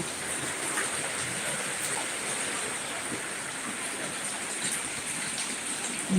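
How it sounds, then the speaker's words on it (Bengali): Steady rain falls outdoors, a continuous dense hiss of water on surfaces that stays even and unbroken throughout, with no talk. "দেখেছেন বৃষ্টি কেমন বৃষ্টি হয়েছে"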